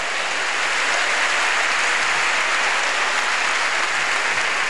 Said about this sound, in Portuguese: Pode aplaudir o Senhor mesmo.